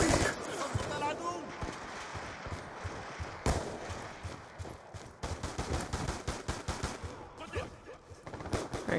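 Rapid MK48 machine gun bursts in Call of Duty Black Ops 2 online Team Deathmatch on the Turbine map, with sharp repeated shots in clusters and a dense run of fire near the end, mixed with talk.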